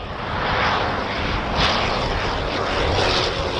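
A vintage propeller aeroplane engine drones steadily at the Shuttleworth vintage airshow, passing fairly close and loud with a broad roar that swells slightly, no talk over it.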